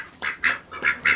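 Four short, nasal quacks from female ducks come in an uneven run over just over a second. They sound close and fairly clear, with no voices underneath.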